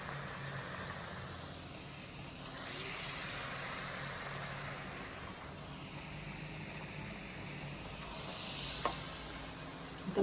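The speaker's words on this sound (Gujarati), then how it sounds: "બટેટા વડા જ્યારે નાખો ને ત્યારે એની જાતે ઉપર આવી જાય ને પછી એને તમારે પલટાવવાના." Potato vadas in Gujarati farali style fry in hot oil, a steady soft sizzle and bubbling that runs continuously at moderate level, swelling slightly a few times, with an occasional faint clink near the end.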